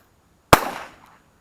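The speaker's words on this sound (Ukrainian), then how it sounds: "ви можете зробити постріл вгору" A single sharp, loud bang from an Ekol Major blank starter pistol fired upward, cracking suddenly out of quiet and ringing briefly before fading.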